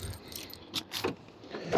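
Car keys for a Hyundai jangle in a hand, a few short bright metallic rattles close by, the last burst loudest, with no talking.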